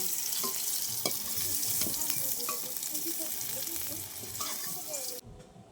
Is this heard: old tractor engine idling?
no